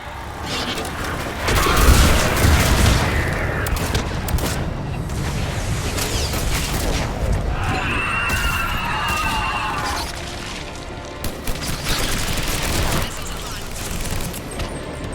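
Missile strikes and explosions crash and boom in the Mass Effect 3 game battle, a loud burst of blasts and debris rumble layered with gunfire, with a voice speaking over the din.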